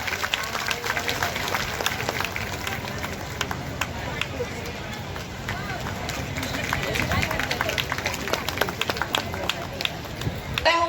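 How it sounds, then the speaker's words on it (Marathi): Applause from a crowd welcoming a guest at a women's gathering in Navi Mumbai, a dense continuous patter of many clapping hands with babble mixed in, steady and moderately loud throughout. "सर्वांनी जोरदार टाळ्या वाजून त्यांचं स्वागत करावं"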